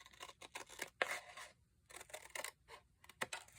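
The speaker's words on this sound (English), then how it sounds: "I'm going to make as straight a cut as I possibly can across." Scissors slicing straight across a sheet of paper, a series of close, crisp snips and shearing strokes with short pauses between cuts.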